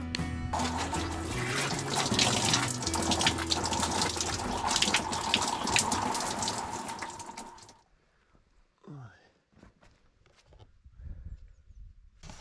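Cold shower water runs steadily at a hiking camp in Poland, a loud continuous gush that stops abruptly partway through, leaving quiet room sounds with faint scattered noises.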